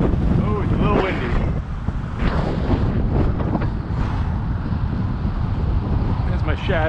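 Strong wind buffeting the microphone in a constant roar, with a voice speaking intermittently underneath.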